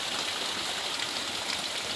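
Water streams steadily from among the roots of a large tree, a continuous close hiss of running flow with no break and no voices.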